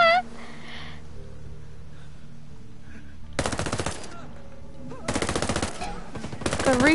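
Video game gunfire from a gun with heavy recoil, heard as three long automatic bursts of rapid shots, loud and close, with a voice and background sound before the first burst.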